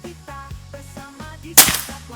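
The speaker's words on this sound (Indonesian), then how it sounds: "Untuk tembakan ke-6 kita coba besi yang" A sudden sharp Sanca Gear Gen 5 air rifle shot cuts through background music, with a short metallic clang right after from a steel target.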